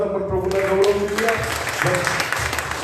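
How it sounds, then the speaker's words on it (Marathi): A congregation at a Sunday church service applauds in a continuous burst of clapping while a voice carries on over it. "जोरात टाळ्या वाजून आपण प्रभूला गौरव देऊया."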